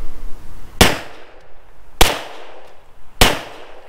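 Three loud, sharp unsuppressed rifle shots with 147 grain subsonic ammunition fired into dirt, evenly spaced about a second apart outdoors, each a sudden crack with a brief fading tail.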